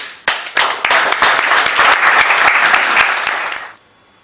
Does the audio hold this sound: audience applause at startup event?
yes